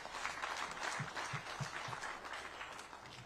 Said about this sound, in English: I think we need a big round of applause to ourselves.